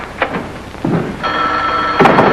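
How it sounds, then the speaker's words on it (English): A telephone bell rings in a family living room in a 1950s sitcom, coming in short bursts with thumps and household noise around it. "Answer the phone, Willie."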